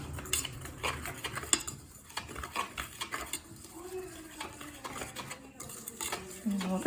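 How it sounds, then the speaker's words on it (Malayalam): A spoon stirs plum cake batter after sugar-butter syrup has been poured in, giving soft, irregular scraping and clinking against the bowl. The sounds are close and fairly quiet, with no clear talk. "നന്നായിട്ട് ഇളക്കി കൊടുക്കാം"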